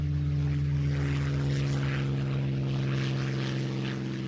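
Steady propeller fighter aircraft engine drone used as a board game sound effect for a takeoff, a loud continuous hum with a rising airscrew whine, heard alone without voices.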